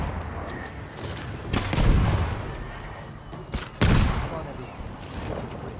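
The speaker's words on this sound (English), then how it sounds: "Open fire on my signal." Gunfire volley in the Ghost of Tsushima video game, two heavy booming blasts a couple of seconds apart over a rumbling battle background, with voices faintly underneath.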